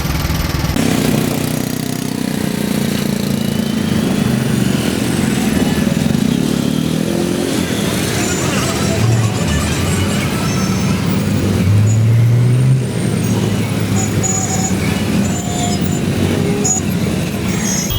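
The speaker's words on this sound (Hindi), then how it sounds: "और शोर से आप समझ रहे होंगे कि बाहर ट्रैफिक काफ़ी है।" Heavy road traffic outside on a Delhi street near Shastri Park heading toward ISBT: a steady, loud, continuous rumble of engines and passing vehicles, with horns and motor drones blending throughout and no talk.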